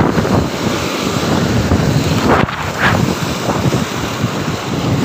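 Strong night wind roars over the waves of Manila Bay at a fishing spot after a flood, loud continuous buffeting on the microphone with surf washing underneath.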